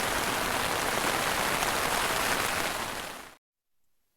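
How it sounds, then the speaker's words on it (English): Steady, dense rain drums on a Terra Nova Pioneer 2 tent at a coastal wild camp, a loud close hiss of drops that cuts off abruptly near the end. "nice chilled relaxing in the rain with the tent"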